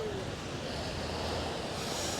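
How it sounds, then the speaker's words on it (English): Shore break waves at Coogee Beach in Sydney wash in as a continuous soft roar of surf, distant and fairly quiet, with a wide steady hiss and a little wind over the microphone and no talking. "Coogee Beach has got a real shore break"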